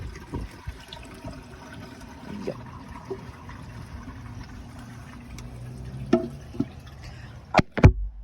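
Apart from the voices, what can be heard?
toilet tank refilling with water after flush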